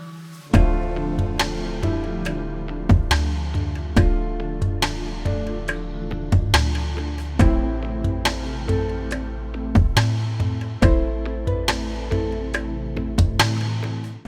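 A full electronic Carnatic fusion arrangement plays steadily: piano chords, deep bass and punchy percussion with synth stabs, in a loose, repeating groove.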